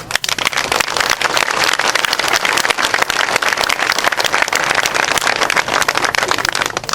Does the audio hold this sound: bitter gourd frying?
no